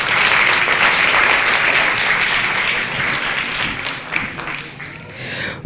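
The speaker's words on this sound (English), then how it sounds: "let's give them a big round of applause" An audience at a community annual day program claps for performers, a full, steady round of applause that gradually thins and fades out with scattered final claps.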